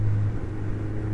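A Suzuki GSX 1400 motorcycle engine with a fuel-starved fault runs in a low, steady rumbling drone heard while riding, close and continuous without talk.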